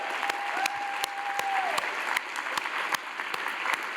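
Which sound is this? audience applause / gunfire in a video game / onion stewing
audience applause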